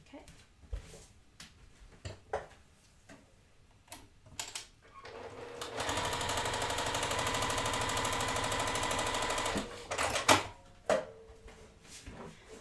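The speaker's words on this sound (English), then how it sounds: "And I'm going to sew a 1/4 inch across." A sewing machine stitches a quarter-inch quilt seam in a steady, fast mechanical whir lasting about four seconds, with light handling clicks and rustles before and after.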